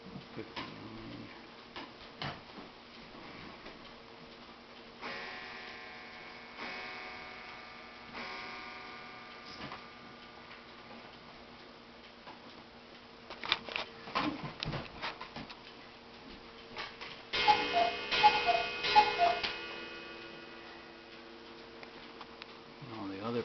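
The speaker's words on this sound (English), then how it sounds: "And all the other clocks finish chiming." Several clocks tick steadily in a quiet room, with bright, sustained chime tones ringing out partway through and a louder cluster of chimes near the end, all close and moderately soft.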